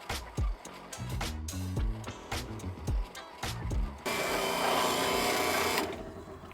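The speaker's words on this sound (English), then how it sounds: "We got 2 1/4 inch hole saw. I've already done the pilot hole so that it goes in relatively smoothly." A 2 1/4 inch hole saw cuts through clamped stock on a pilot hole, with several short bursts of rough grinding and clunks followed by a steady, louder two-second run of cutting noise near the end.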